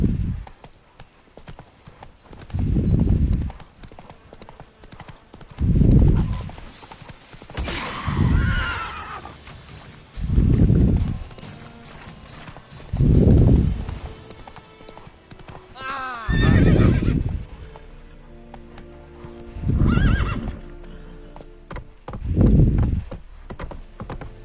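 Roach the horse in The Witcher 3 video game, with repeated bursts of hoof clip-clop at a regular pace and a few whinnies between them, close and loud, while someone speaks to the horse.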